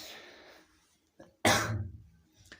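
A single sharp, close cough bursts out after a brief breathy sound and a pause, followed by a softer exhale.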